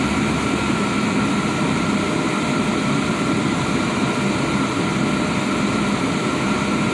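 A car engine is held at about 2000 rpm while its thermostat housing is checked, giving a steady, loud, unbroken drone with a broad rushing noise over the whole stretch and no talk.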